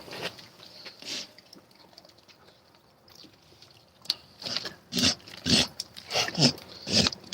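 A dog laps and gulps water in bursts, wet slurping close by, quieter at first then growing louder and rhythmic in the second half; no speech.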